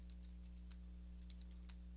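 Keys tapped on a computer keyboard while a website address is entered, a handful of faint, irregular clicks over a steady low electrical hum, no talking.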